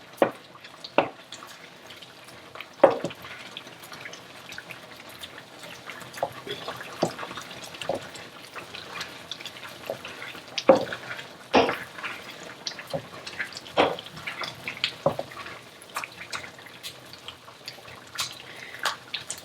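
Thick, creamy risotto bubbles aggressively in a pan, with scattered soft pops and plops breaking the surface at an irregular pace, close and fairly quiet.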